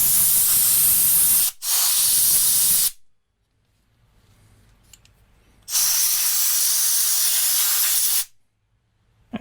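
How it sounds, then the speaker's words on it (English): An air gun blasts compressed air to clear dirt off an old barn-find Murray push mower, giving two long, loud, steady hissing bursts, the first briefly broken, with a quiet gap between them. "let's use the air gun and blow some of this dirt off of here"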